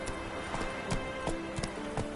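A horse gallops in a video game, a quick steady clip-clop of hooves at moderate distance over a constant background of game sound and music, faint and without speech.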